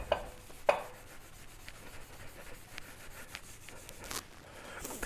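Steady rubbing and scrubbing on the surfaces of a wood lathe, cleaning off built-up debris with Tool Cleaner: soft, close, low-level friction strokes with a few light taps and scrapes and no talk.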